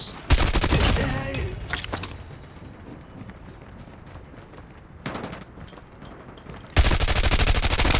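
Gunfire in a multiplayer shooting video game comes as dense, loud bursts of rapid automatic shots at the start, middle and end, separated by quieter stretches of background game sound.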